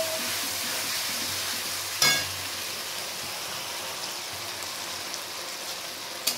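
Onions frying with sugar and ginger paste in a pan for mutton curry, a steady moderate sizzle with one sharp clatter early on and a faint knock near the end.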